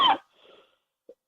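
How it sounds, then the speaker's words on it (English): One short, sharp throat-clearing burst up front, a faint breathy trail after it, and a tiny click near the end, with no speech. "they're clearing my throat"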